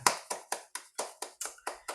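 A church congregation claps in slow, steady unison, about eight crisp, evenly spaced claps that ring out clearly against otherwise quiet surroundings.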